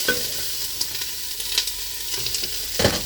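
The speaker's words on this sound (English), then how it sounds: "Now I've got a saute up here. I've got that on a little bit above medium." Garlic and a whole onion sauté over slightly above medium heat in a 5-quart Dutch oven, giving a steady soft sizzle with scattered stirring scrapes and a sharper clatter near the end.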